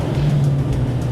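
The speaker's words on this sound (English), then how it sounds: "That's too high, you hear the engine? Sounds a bit funny." A RIB boat's outboard engine revs too high with a slightly odd tone, a loud, steady, close-up drone with no break.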